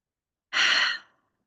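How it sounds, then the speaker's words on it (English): A single deep, intentional breath is exhaled as a close, breathy sigh lasting about half a second, then fading into silence. "have a couple of big intentional breaths with me"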